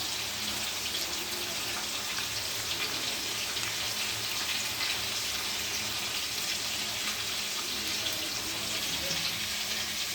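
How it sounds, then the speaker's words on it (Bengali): Raw rice frying in a pan while rice cooks nearby, with a steady dense sizzling hiss that holds evenly and close throughout, no voices. "এদিকে ভাতটা হচ্ছে, আর চালটা ভেজে নিচ্ছি"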